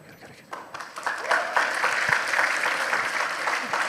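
Student audience at a university dialogue breaking into applause, the clapping starting sparse and swelling into a steady moderate round that continues to the end.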